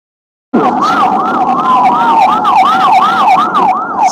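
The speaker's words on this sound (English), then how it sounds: "So many sirens" A loud siren wails in rapid rising and falling sweeps, starting abruptly after a brief silence, with a second steady tone underneath.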